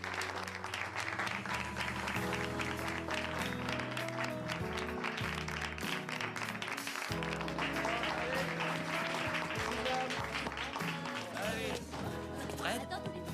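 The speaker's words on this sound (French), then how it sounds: "Et on les applaudit," Students in a classroom applaud guests with steady, continuous clapping that lasts throughout, with voices mixed in.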